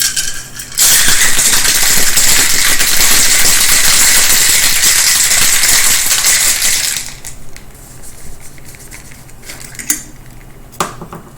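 A cocktail shaker filled with ginger-peach turmeric tea and chilled water is shaken hard, a loud, dense rattle of liquid and ice lasting about six seconds, then it stops and a few light clinks follow.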